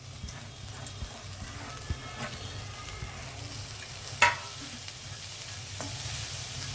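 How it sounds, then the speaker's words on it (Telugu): Chopped coriander sizzling in a pan for egg fried rice, with a steady fry hiss and irregular stirring clacks and scrapes of a utensil, close and moderate, no talking. "మనం తరిగి పెట్టుకునే కొత్తిమీర వేసేద్దాం"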